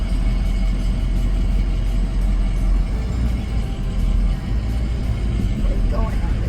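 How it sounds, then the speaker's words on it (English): Steady low engine rumble aboard the Southport Ferry, a broad droning hum with constant vibration, loud and continuous throughout with no clear voices on top. "Now it's time for a ferry ride."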